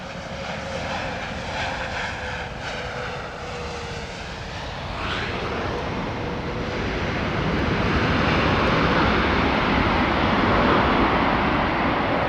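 A British Airways Boeing 777 or Dreamliner jet roars past at Heathrow Airport, its engine noise building steadily into a loud, sustained broadband rumble with a rising whine early on.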